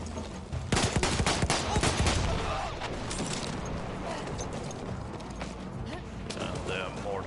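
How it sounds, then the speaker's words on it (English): Battlefield 1 mortar fire in a video game: a cluster of sharp explosive cracks and booms, heaviest in the first couple of seconds, then rumbling battle noise, with someone talking over it throughout. "Oh, those are mortars."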